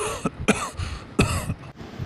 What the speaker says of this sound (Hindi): कोई अंदर खांस रहा है